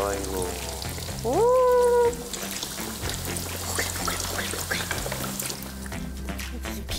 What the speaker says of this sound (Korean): 비 오는 날 튀김 소리, 고소한 향기로 가득 채워주는데요.